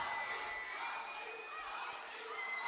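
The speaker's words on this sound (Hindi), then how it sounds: "आपकी सीटियां मुझ तक पहुंच गईं और आपकी तालियां भी पहुंच गईं" Brief burst of crowd cheering at a mushaira for Tehzeeb Hafi, with sharp piercing whistles ringing steadily over a broad wash of clapping and voices.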